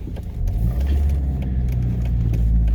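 A car engine rumbles steadily and loud from inside the vehicle during a drive through Maramures, Romania, low and continuous with slight swells, no talk.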